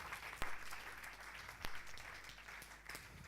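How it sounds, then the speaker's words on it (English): An audience at a business talk claps for speaker Grant Mullen; the applause is faint and distant, with a few sharper individual claps standing out. "Big round of applause for Grant Mullen, guys"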